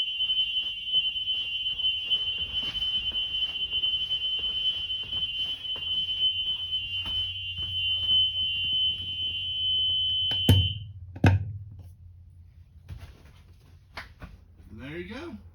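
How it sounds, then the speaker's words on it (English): With the engine switched off, a school bus child-check alarm sends out a steady high electronic beep that runs for about ten seconds and then cuts out. Someone talks over it, and a few clunks and thumps follow. "You're going to hear it kind of beeping at me. It's beeping at me because we got to go back and hit the button."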